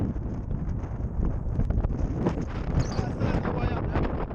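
Strong wind gusts buffet the microphone on an exposed hilltop walk, a loud, continuous low roar that swells and dips throughout.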